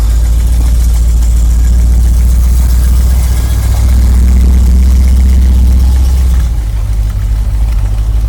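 A 1973 Corvette Stingray engine idles close by, a loud, deep, steady rumble that shifts slightly in pitch midway and then settles lower, with no talking.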